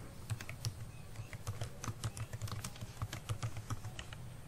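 Rapid, uneven keystrokes on a computer keyboard while text is typed into a Microsoft Word document, close and fairly quiet, continuing steadily without any talk.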